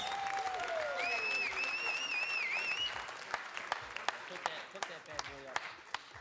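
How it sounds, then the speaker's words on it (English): A crowd at a Gran Turismo Sport championship final applauds steadily with whistles, then the clapping thins out into a few scattered, distinct claps near the end. "Everyone, give him a round of applause"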